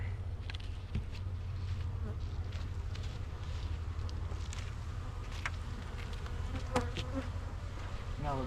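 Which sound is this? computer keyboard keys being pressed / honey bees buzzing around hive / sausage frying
honey bees buzzing around hive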